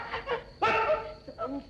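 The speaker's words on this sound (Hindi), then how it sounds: "बड़े ठाकुर का कुत्ता।" A village dog gives a short bark and whimpering yips amid excited human voices talking over it in an old 1963 film scene.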